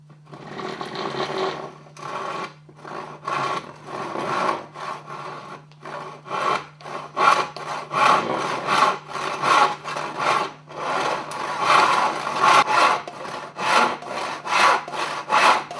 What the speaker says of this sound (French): et je scie